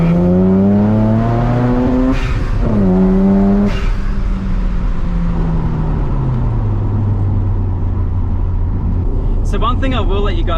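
A Mazda RX7 rotary engine revs up through several gears as the car drives along, the pitch climbing and dropping with each shift, loud and close from inside the car, with a brief voice near the end.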